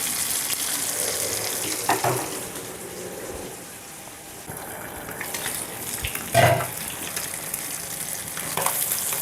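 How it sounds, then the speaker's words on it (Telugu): Fish pieces frying in a tava over a low flame for a hotel-style fried fish, a steady soft sizzle with a few louder crackles and clatters, no talking. "ఈ చేప ముక్కలు పెట్టుకుందాం. ఇది సన్నసగం మీద వేగాలి."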